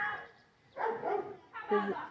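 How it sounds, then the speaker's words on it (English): A big dog barks outdoors in two loud bursts at a middle distance, with a quieter stretch between them. "There's a big dog making all that noise."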